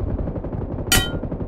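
A single sharp gunshot in the battle royale game BGMI, loud and close, cracking over a dense rumbling background of game noise.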